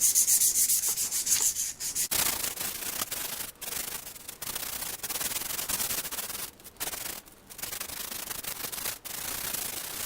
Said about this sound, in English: This is actually wood sandpaper,